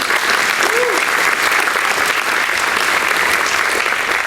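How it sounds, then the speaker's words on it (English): Audience applause at a university spring reunion banquet, a dense, even burst of clapping filling the room with a brief whoop early on, steady throughout. "Let's give them a round of applause."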